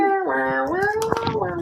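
A voice imitates a strangled cat, a rising and falling wailing yowl with strong harmonics, loud and close, warbling for under two seconds.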